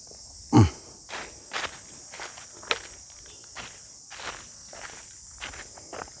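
Footsteps crunch at a steady walking pace outdoors on the grounds of a Thai temple, close and distinct, with crickets and insects buzzing constantly behind them.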